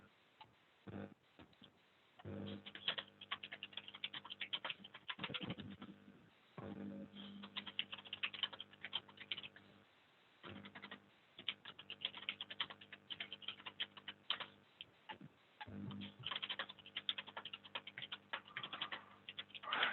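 Rapid clicking keystrokes on a computer keyboard come in bursts separated by short pauses, close and fairly quiet.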